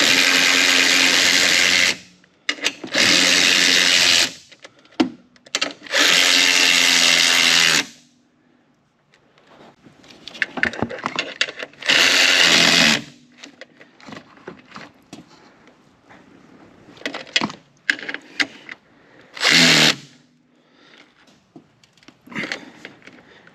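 A power tool tightens the strut bolts on a 2013-2020 Ford Fusion in four loud, close bursts of several seconds each. Quieter clinks and shop handling noises fill the pauses between bursts.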